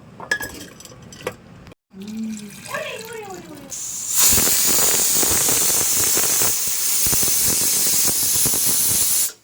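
A pressure cooker full of khichuri releases steam in a loud, sustained hissing whistle that starts abruptly and runs on steadily, after some earlier kitchen clinks and brief sounds.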